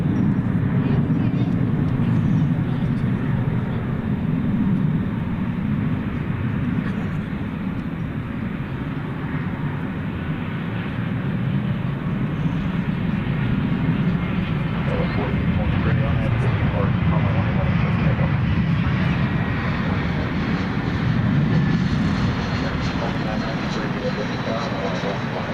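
An American Airlines airliner at night at DFW Airport, Texas, its engine roar a steady, loud rumble that holds for the whole stretch, with a voice talking over it now and then.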